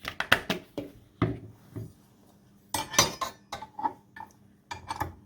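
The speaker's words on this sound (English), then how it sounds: "I'm going to mix it for a little bit and then make sure that everything is combined." A spoon clinks and scrapes irregularly against a bowl as hot cross bun dough of flour blend, activated yeast and sultanas is mixed nearby, with short pauses between bursts of strokes.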